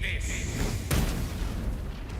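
A single sharp blast bursts out in the Baldur's Gate III video game, cutting through a dense wash of steady game background noise.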